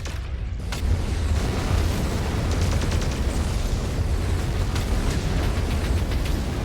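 A missile explosion in a jet combat game bursts out as a loud, sustained rumbling blast with crackling debris, filling the scene continuously after a brief quiet start.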